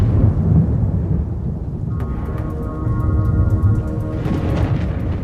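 A thunderstorm with steady rain and a continuous low rumble of thunder, loud and close, with no voices.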